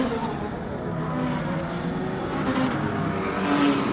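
Modified race cars, including a small Suzuki, circle a dirt track at night, engines droning and revving together at a middling distance under a steady wash of crowd and track noise, with a voice talking over the top.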